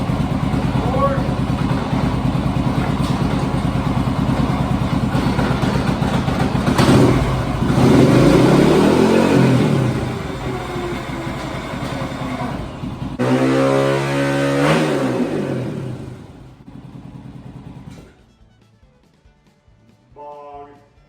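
Honda XR 400 motorcycle engine revving loudly and steadily up close, with deeper surges and a rising, falling throttle pattern before cutting to near quiet at the end; speech is likely mixed in.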